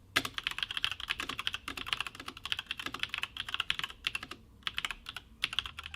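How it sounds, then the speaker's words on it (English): Continuous typing on a Logitech G715 wireless gaming keyboard with tactile GX mechanical switches, dense clicky keystrokes in quick uneven bursts with short pauses, close and crisp, no talking. "Now we have the tactile keys on ours and the sound is so satisfying without being overly distracting,"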